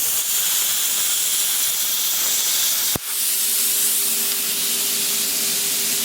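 A plasma cutter runs at low amperage on metal, giving a loud, steady hiss that breaks briefly midway and resumes with a faint tonal hum underneath.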